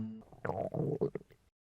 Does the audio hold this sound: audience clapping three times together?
no